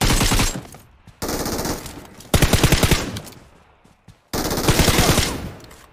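Bursts of automatic machine-gun fire in a shooter video game, three loud sustained volleys separated by short pauses, with no talking over them.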